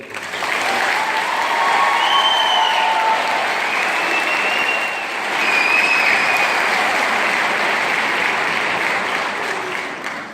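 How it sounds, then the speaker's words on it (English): Sustained loud applause from a school graduation crowd for the graduating kids, a dense steady roar of many hands clapping, dipping briefly and swelling again, with faint cheers and whistles on top. "why don't you give a clap of round of applause for your kids"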